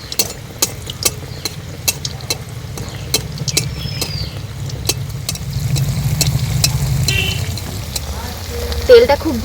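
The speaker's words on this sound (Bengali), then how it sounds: "আমি যেহেতু অল্প তেল দিয়ে ভাজছি, একটা একটা করেই ভেজে নেব।" Chhana chitrakut sweets frying one at a time in a small amount of hot oil, a soft bubbling sizzle punctuated by sharp regular clicks and taps, with a low rumble swelling toward the end.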